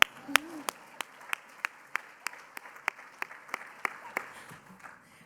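Scattered audience clapping at a talk honoring John Lewis, about a dozen sparse, separate claps spaced roughly evenly over a few seconds, thin rather than a full ovation, with a brief voice near the start.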